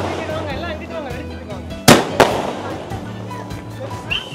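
Two sharp Diwali firecracker bangs burst a moment apart over a steady background hum and distant chatter, with fainter pops trailing afterward.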